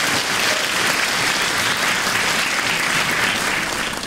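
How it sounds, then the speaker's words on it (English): An audience at a school winter concert claps steadily, a dense wash of applause that stays loud and even throughout. "a round of applause for him"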